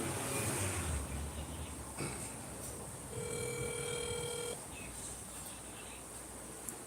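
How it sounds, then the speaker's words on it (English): A telephone tone sounds as a call is placed, a steady ringing note holding for about a second and a half amid faint background noise, with no talk. "let me call you back on my phone"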